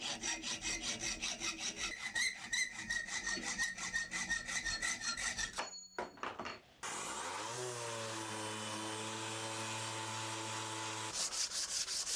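Rhythmic rasping strokes scrape steel flat bar, then stop; after a brief gap a power tool spins up and runs steadily, with scraping resuming near the end.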